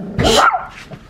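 A dog gives one sharp, loud bark close by, followed by a softer short yip.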